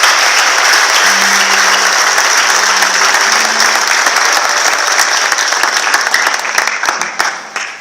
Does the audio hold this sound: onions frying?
no